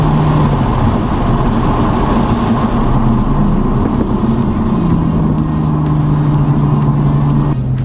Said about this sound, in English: it sounds like a major wind tunnel, anything over 43 miles per hour